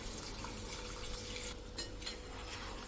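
A faint, steady stream of water pours into a pot of mutton for a few seconds, with no one speaking.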